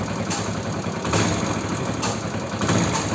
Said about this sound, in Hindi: बाइक को स्टार्ट किया और जैसे रेस देंगे ना, सीटी जैसी आवाज़ आएगी इंजन से